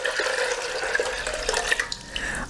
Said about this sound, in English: I'm going to put my 2 litres of water in there